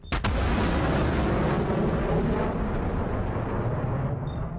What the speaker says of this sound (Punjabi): ਤੁਸੀਂ ਕਈ ਸਾਰੇ ਧਮਾਕੇ ਦੀਆਂ ਆਵਾਜ਼ਾਂ ਸੁਣ ਰਹੇ ਹੋਵੋਗੇ